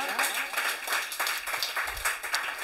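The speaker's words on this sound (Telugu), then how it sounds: "గట్టిగా చప్పట్లు కొట్టి దేవుని మహిమపడతా" Church congregation clapping loudly in unison, a fast rhythmic run of hand claps that rises and falls in strength.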